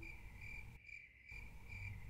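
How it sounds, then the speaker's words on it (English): Crickets chirp in a steady, high trill that cuts out for about half a second and then resumes at the same level. "Crickets."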